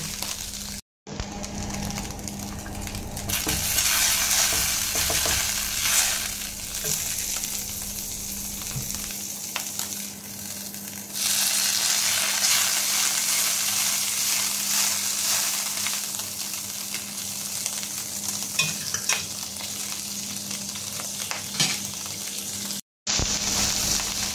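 Pork sisig sizzles loudly in a hot pan as butter is added, a steady close crackle with a brief drop and swell partway through.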